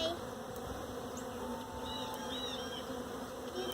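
Honey bees buzz steadily and densely around an open hive during an inspection, a continuous close drone with a few individual bees whining past nearby.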